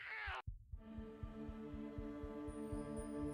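Muffled, steady heartbeat as a baby hears it in the womb, a low regular thumping pulse over a deep humming drone, preceded by a brief sharp transient before the beats settle in.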